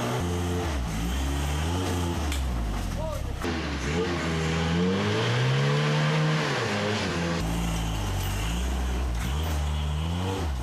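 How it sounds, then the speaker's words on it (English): A 4WD off-road vehicle on worn-in but sound Super Swamper IROC tires claws for traction on a tough track, its engine revving up and down in repeated loud surges and dips, heard up close without anyone talking. "the super aggressive and good conditioned Super Swamper IROCs search for traction"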